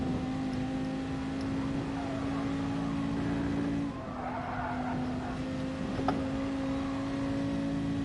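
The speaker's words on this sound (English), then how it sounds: "let me rev it out" A car engine in the Gran Turismo Sport racing game holds a steady, droning rev for several seconds, with a brief dip and a short sharp tick near the end.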